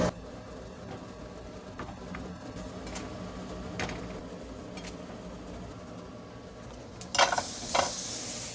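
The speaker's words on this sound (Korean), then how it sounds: "잘 섞어줍니다" A spoon stirs Greek-style mild yogurt, lemon juice and low-calorie mustard together into a sauce, making soft wet scraping and clicking sounds with a couple of louder scrapes near the end.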